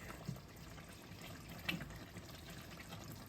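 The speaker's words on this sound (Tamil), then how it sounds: "நான் ஆல்ரெடி அதில் இருந்த தண்ணியை இப்படி விட்டுது" Water running and trickling while draining from a pot during chicken curry cooking, a faint steady liquid stream with a couple of small splashes.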